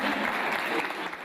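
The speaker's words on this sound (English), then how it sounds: "to the sound of thunderous applause" Loud, dense applause from a gathered crowd, steady and continuous throughout the short stretch.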